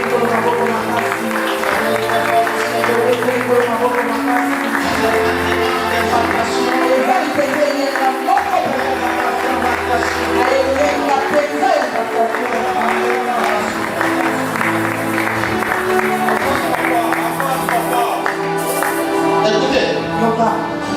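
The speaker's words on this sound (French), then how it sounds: "Acclamons très fort le Seigneur." A church congregation at a Sunday service applauds and cheers, sustained dense clapping and crowd noise lasting throughout, mixed with loud music and voices in a reverberant hall.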